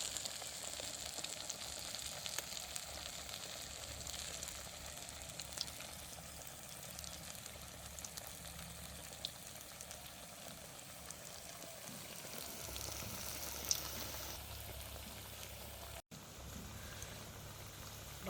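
Vada frying in hot oil outdoors in a village setting, a continuous crackling sizzle that holds steady and close for the whole stretch, with a brief break near the end.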